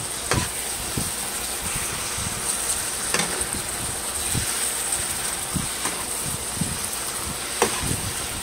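Bell pepper and red chili oil frying in a pan, a steady loud sizzle broken by the scrape and clack of stirring, with no talking.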